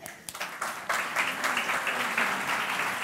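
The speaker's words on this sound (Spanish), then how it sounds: "Un aplauso." Applause at a national ethics congress in Spain, starting with scattered individual claps and swelling within a second into full, steady clapping from the audience.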